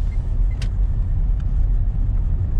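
A car pulls away in first gear after the handbrake is released, its engine giving a loud, steady low rumble throughout with a brief click partway in, heard from inside the cabin.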